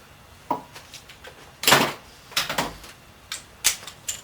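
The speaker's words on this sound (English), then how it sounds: "Now next I'm going to go ahead and torque these rocker studs down." While rocker studs are tightened to 45 pounds on a rebuilt Chevy big-block 454 engine, a torque wrench gives several sharp, close clicks spaced irregularly, with short bursts of ratcheting between them.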